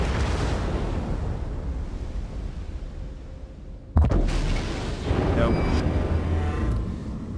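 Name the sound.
warship guns firing in the video game World of Warships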